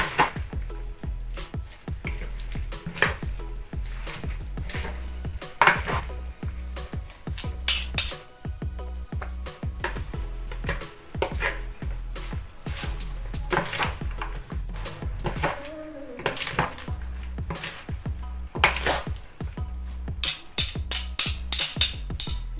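Mango salad with dill tossed with utensils in a bowl, giving a busy, continuous clatter of metal scraping and clinking against the dish, close and fairly loud, with no voices.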